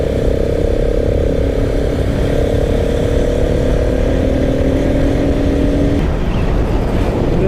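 A motorcycle riding along a winding mountain road, steady loud engine drone with wind rush throughout, a slight shift in pitch near the end, no voices.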